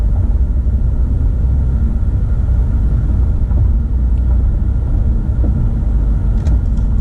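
A car cruising along the M-13 highway past a GM automotive plant, giving a steady, loud low road rumble and engine drone that holds evenly throughout, with no talk.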